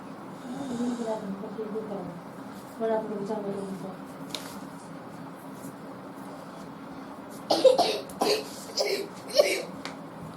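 A man coughs and clears his throat during a Class 12 maths lecture, a few harsh, close bursts near the end after a stretch of quieter vocal sounds.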